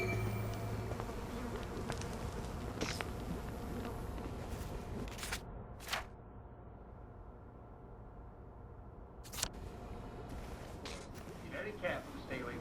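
Bees buzzing in the video game We Happy Few, a steady low insect hum running throughout with a few sharp clicks and thuds over it, while a voice talks.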